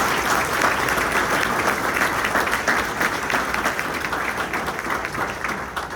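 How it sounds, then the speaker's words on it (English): Sustained audience applause for military veterans and their families at a community salute event, a dense, even wash of many hands clapping that holds steady for the whole stretch before easing slightly. "I would like the audience to respond with some applause for all the veterans"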